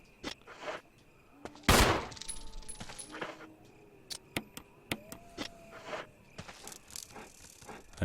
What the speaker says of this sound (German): Schieße mal Schuss mit der Pistole.